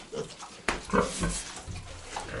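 A sow pig grunts in low, rough bursts at close range, with one louder grunt near the start and softer snorts following over farm background noise.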